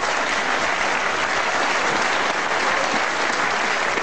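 A wrestling crowd applauds steadily after a move by Caswell Martin, the clapping dense and sustained at full volume throughout with no pauses.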